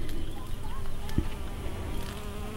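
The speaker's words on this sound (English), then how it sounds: "All the bees." Bees buzz around flowering Thai basil in an outdoor garden, a continuous, fairly close hum of several insects over a soft ambient background.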